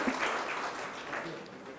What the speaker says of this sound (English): can we have a louder round of applause for the session, which has come to a close